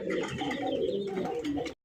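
A pair of large, colorful round-bodied pigeons coo close by in soft, repeated throaty calls that cut off abruptly.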